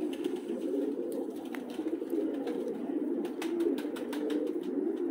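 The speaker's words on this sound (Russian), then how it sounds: "Здесь залетают у него горлицы, вот они." Soft, repeated cooing of turtle doves, low and rhythmic, with a few faint chirps and wing sounds in the background, in Tbilisi, Georgia.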